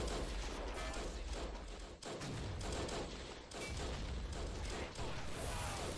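Heavy artillery and mortar fire in the WWI video game Battle of Empires 1914-1918 on the Hindenburg Line, a dense continuous barrage of booms and gunfire with brief dips, loud and close throughout.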